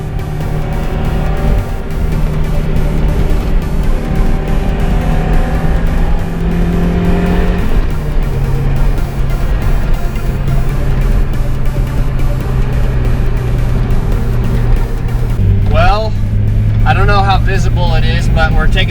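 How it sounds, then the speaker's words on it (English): Turbocharged Mazda Miata on a test drive with new tires, its engine droning steadily inside the cabin with shifting pitch as it accelerates and changes gear, a strong continuous hum under occasional talk. "we're taking the car for a test drive on the new tires now"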